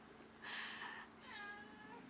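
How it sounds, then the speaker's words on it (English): A domestic cat meows twice indoors, the first call longer and louder, the second a drawn-out, wavering cry. No one speaks over it. "oh, there goes my cat"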